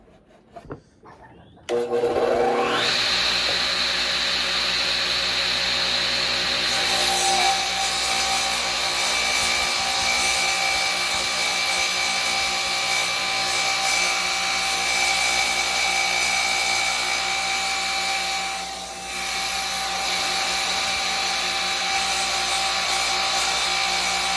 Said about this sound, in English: I'm going to cut this piece of HDF for the top of this.